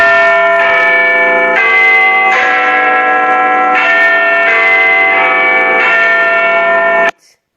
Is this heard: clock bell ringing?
yes